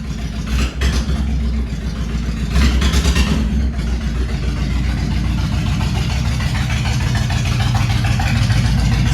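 A carbureted motorcycle engine idles while warming up in a garage, a loud, close, steady low rumble with a slightly uneven, lumpy pulse and a brief rise in level early on.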